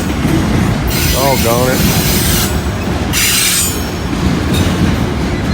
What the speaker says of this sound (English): That is that NS train like I think it is